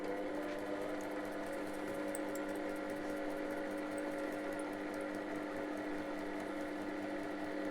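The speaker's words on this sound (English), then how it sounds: "So just sewing down this line, trying to make it as straight as possible" A sewing machine stitches a straight line through cardstock, its motor giving a steady, continuous whirring hum with a faint mechanical rattle throughout, close and unbroken.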